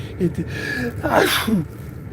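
A single loud sneeze bursts out in the middle, with a sharp intake of breath and faint voices around it.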